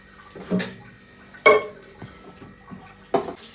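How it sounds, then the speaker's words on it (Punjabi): Dishes are washed with water at home, heard as three or four close splashing bursts with clatter of utensils between quieter pauses. "ਭਾਂਡੇ ਭੁੰਡੇ ਕੱਢਨੇ ਹਾਂ ਸਭ ਧੋਣੇ ਆ"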